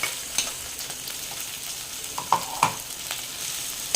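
Ground green peas sizzle softly in hot oil in a pan, a steady quiet frying hiss with a few faint stirring clicks, no voices.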